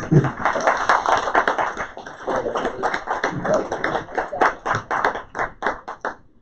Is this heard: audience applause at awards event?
yes